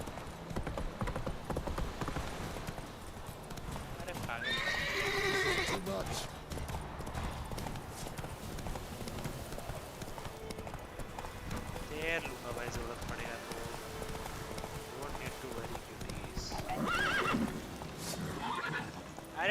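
Roach the horse in the video game Witcher 3 gallops with rapid rhythmic hoofbeats and lets out shrill whinnies, while someone talks over the game sounds nearly throughout.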